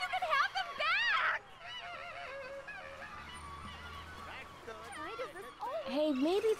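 Geese honking during a bird attack in the Broken Age video game, repeated wavering calls in bursts at the start and end, with voices talking underneath.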